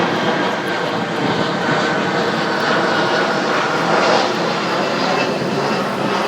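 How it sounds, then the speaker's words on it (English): An American Airlines jet passes loud and low overhead above Rockaway Beach, New York, during Hurricane Sandy, a steady roaring engine rumble that swells slightly toward the end over wind. "these planes are coming in loud and low. That's an American Airlines jet right now."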